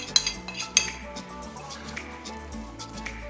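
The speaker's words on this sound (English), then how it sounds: "Give those a good mix in." A spoon stirring fennel and chives into a thickening smoked salmon terrine mixture, with a few sharp metallic clinks against the bowl early on, then softer wet scraping and squishing throughout, close by.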